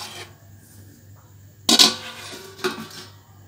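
A lid placed onto a momo steamer pot, a loud metallic clang followed by a lighter clink as it settles, close by against a quiet kitchen background.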